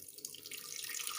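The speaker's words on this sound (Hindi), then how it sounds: "थोड़ा सा पानी डालता हूँ" Water is poured from a tap into a blender jug as a steady, splashing stream that runs throughout, alone and fairly close.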